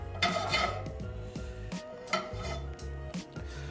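Cockles clatter into a hot pan glazed with white wine, garlic and thyme, their shells rattling and scraping against the metal in a few busy bursts, with a faint sizzle underneath.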